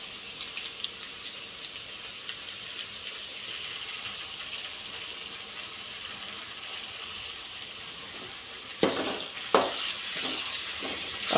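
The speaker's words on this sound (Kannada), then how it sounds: "ಫ್ರೈ ಆಯಿತು ಶುಂಠಿ ಬೆಳ್ಳುಳ್ಳಿ ಪೇಸ್ಟು" Ginger garlic paste frying with onion and capsicum in a pan, a steady hissing sizzle throughout that swells with louder stirring scrapes and bursts near the end, no talking.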